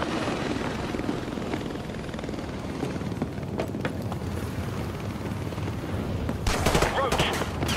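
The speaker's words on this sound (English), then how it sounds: "Surrounded by the chopper." A helicopter in Call of Duty: Modern Warfare 2 Remastered thrums in the background amid sharp bursts of gunfire, with a louder crackle of shots toward the end.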